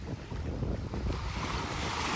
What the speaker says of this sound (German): Jetzt gehen wir hier durchs Wasser